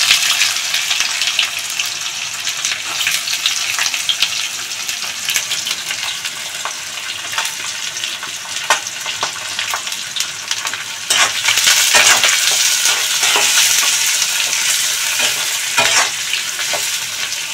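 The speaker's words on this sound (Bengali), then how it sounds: "এই সময় আমি যে পেঁয়াজগুলো কুচিয়ে রেখেছিলাম সেই পেঁয়াজগুলো দিয়ে দেবো।" Chopped onions hit hot oil tempered with Bengali five-spice while cooking prawns with bottle gourd, giving a steady close sizzle with repeated scraping stir strokes in the pan, loudest in the latter part, with no talking.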